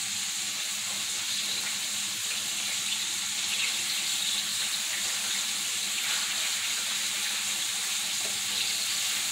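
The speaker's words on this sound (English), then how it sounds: "I'm going to add some onions and green peppers in here." Onions and green peppers frying steadily in a pan, a continuous hissing sizzle at close range that holds throughout, with a brief word spoken once over it.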